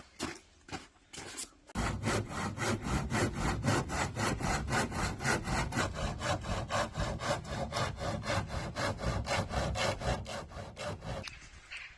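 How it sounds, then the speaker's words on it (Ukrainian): An old hand saw cuts through wood in a village setting, a few separate strokes first, then a long run of quick, even back-and-forth rasping strokes, loud and close. "В умовах блекауту доводиться користуватися не сучасними лобзиками, а оцим старим приладдям."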